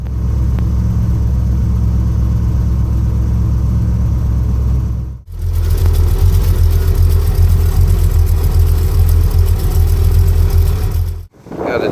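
A bagged 1979 Ford F truck with air ride runs with a steady, loud low engine rumble close by, cutting briefly twice, with no talk over it.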